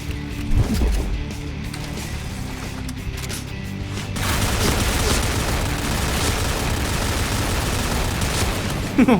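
Gunfire rattles in a shooter video game: rapid bursts and sharp shots, loud and continuous, with a few booms and a brief voice early on.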